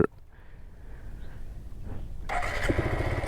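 A motorcycle engine cranks and catches, settling into a steady mid-pitched rumble that grows slightly louder by the end.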